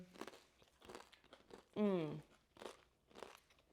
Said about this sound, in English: Wow, that is crunchy.